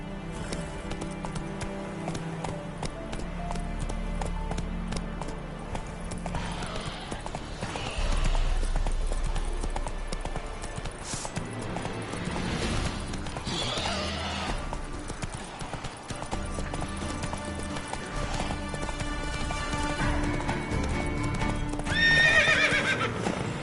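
The horse Roach in a video game, galloping with continuous rhythmic hoofbeats and giving several loud whinnies and neighs over a dense background of game sound.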